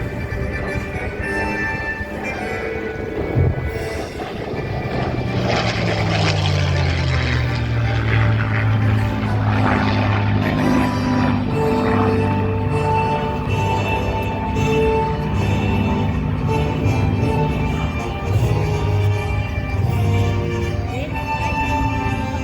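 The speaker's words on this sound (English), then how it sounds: "that sound you hear coming from the cooling system, Joe," A P-51 Mustang and a B-25 bomber fly past with a sustained, loud piston-engine drone whose pitch sweeps slowly, and the Mustang's cooling system adds a faint whistle over the roar.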